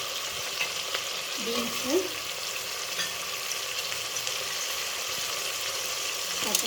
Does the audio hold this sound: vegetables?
yes